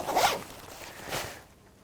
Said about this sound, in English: It's got these huge underarm zips